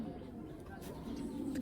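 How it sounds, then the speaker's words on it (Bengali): Belgian-line racing pigeon cooing softly, a low continuous murmur of coos close by with faint background noise. "বেলজিয়াম লাইনের কবুতর।"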